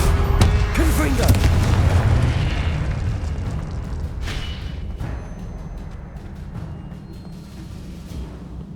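A Confringo blasting spell from the Hogwarts Legacy video game detonates with a loud, deep boom early on. A long rumbling tail slowly fades under continuous game ambience.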